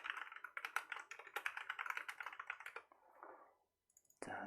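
A password being typed on a computer keyboard, a quick run of light, crisp key clicks close by that slows and stops, followed by a short silence and a final louder click.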